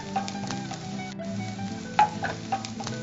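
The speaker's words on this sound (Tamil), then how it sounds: "வெங்காயம் இப்ப நல்லா வதங்கிடுச்சு" Onions sautéing in a pan, a soft, steady sizzle with occasional clinks and scrapes of a stirring utensil against the pan, fairly quiet with no talking.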